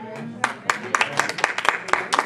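Scattered hand claps from a small audience at a talk, a dozen or so sharp, uneven slaps spread over a couple of seconds, fairly close and moderately loud.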